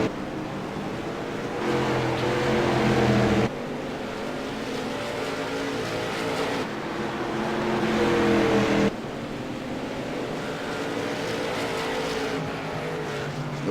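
Race car engines roar continuously in an iRacing online event, the CRA Accelerated Graphics 150, rising and falling as cars lap and shift, loud and close with no voices over them.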